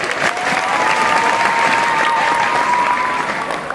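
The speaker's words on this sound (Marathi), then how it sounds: "आनंद नवलेसाठी आता जोरदार टाळ्या" An audience claps loudly and steadily for teacher Anand Navale at a high school student's speech event in Lasurgaon. Dense, continuous applause fills the whole stretch without letting up.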